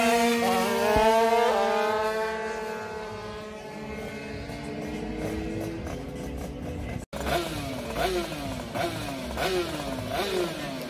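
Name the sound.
90 MXS motorcycle racing past in the foreground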